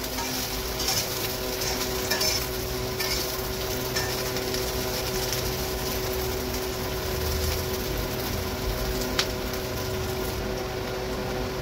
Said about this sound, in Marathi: हे बघा आपले भेंडी आहे ना फ्राय झालेले आहेत.